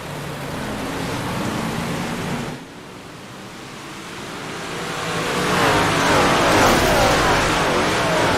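Dirt track race cars roar back up to speed at Lernerville or Weedsport Speedway as racing resumes, a loud, broad engine rush that dips briefly, then swells and builds again, with no talk over it.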